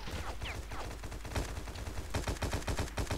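Rapid automatic gunfire in the free-to-play shooter War Inc Battlezone, dense bursts of sharp shots with a couple of whizzing sounds, loudest and fastest toward the end, no talking.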